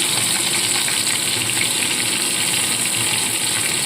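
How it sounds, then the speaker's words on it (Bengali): Chopped onion sizzles in hot oil with cumin seeds, a steady dense hiss of frying that stays loud and even throughout, with no voices. "এবার কুচিয়ে রাখা পেঁয়াজটা দিয়ে দিচ্ছি এর মধ্যে"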